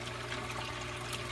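Water from an aquarium's overflows runs down through a clear 3-inch router tube filled with foam, giving a continuous soft rushing trickle, close and steady.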